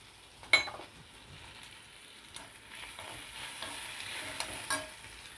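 Ginger and poppy seeds frying in oil for a village-style mutton and vegetable curry, a faint steady sizzle with a few soft stirring scrapes and one sharper clink near the start.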